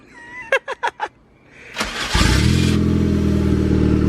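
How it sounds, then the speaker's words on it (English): A car fitted with an eBay turbo kit is cranked with a few quick bursts, then its engine catches and roars up loudly, settling into a steady, close running rumble. "it is alive. Turbo spooling."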